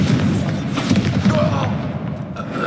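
A blasting-curse explosion in the Hogwarts Legacy video game, heard as dull booming thuds amid a busy spell-combat mix, with no single clear blast standing out.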